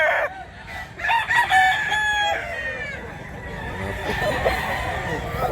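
A rooster at a chicken sale crows loudly and close, with other fowl crowing and clucking around it in a busy outdoor yard.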